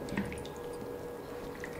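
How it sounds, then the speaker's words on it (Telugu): Water drips and trickles wetly as salted chopped snake gourd is squeezed hard by hand, water running between the fingers, quiet and close. "వేళ్ళ మధ్యలోంచి నీళ్ళు వెళ్ళిపోయేటట్టు ఇట్లా గట్టిగా ఇలా పిండుకోవాలి"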